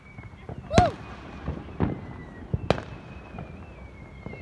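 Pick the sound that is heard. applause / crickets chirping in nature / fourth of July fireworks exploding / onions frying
fourth of July fireworks exploding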